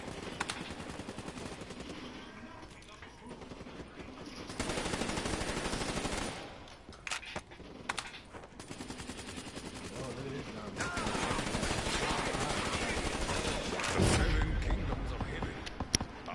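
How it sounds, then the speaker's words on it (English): AK rifle fire in a first-person shooter video game comes in bursts of rapid shots that break off and resume, loud and close, with heavy thuds and game noise in between and a voice talking over parts of it. "Oh no, he got the AK."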